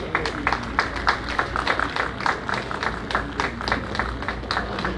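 A club gathering applauds the members' wives with a round of clapping, the individual claps distinct and fairly close, with a faint murmur of voices beneath.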